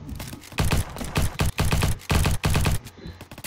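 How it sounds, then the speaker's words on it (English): Gunfire in the shooter game Bad Business, heard as several loud, close bursts of rapid automatic fire separated by short pauses, with no talking. "Where am I being shot from?"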